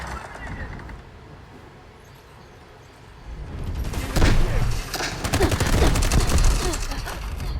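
AUG assault rifle fire in the mobile shooter Delta Force Mobile, dense rapid bursts swelling from quiet and continuing loud and close to the end, with a voice talking over the shooting.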